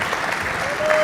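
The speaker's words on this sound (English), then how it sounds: "Round of applause for Douglas and Pangburn Philosophy for putting this on." Audience clapping in a hall at the close of a public debate, a steady wash of applause that swells slightly at the end, with a voice speaking over it.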